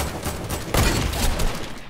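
Rapid automatic gunfire in the video game Fortnite, fired at a bush: a fast stuttering burst of close shots that grows denser and louder partway through, with no voices over it.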